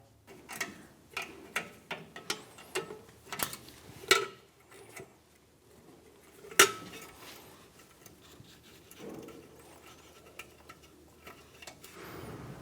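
Metallic ticking and clicking from a wrench turning a brake line fitting off the back of a flex hose on a 1999-2006 Chevrolet Silverado 1500; a series of sharp, fairly close taps and ratchet-like clicks with quiet gaps between them.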